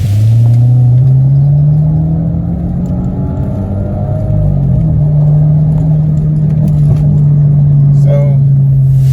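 A stock Audi/VW TFSI engine pulls hard through a 20 mph rolling run, a loud, steady, close droning roar that holds strongly throughout as the revs climb.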